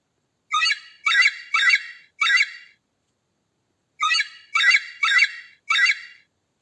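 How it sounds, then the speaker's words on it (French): A goose honks in two bursts of four quick, harsh calls each, close and loud, with a short silent gap between the bursts. "Oie, oie."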